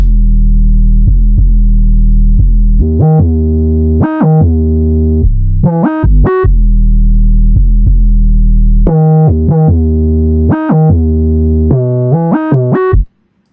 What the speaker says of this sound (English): So now let's go to the second part of the 808, which is the hook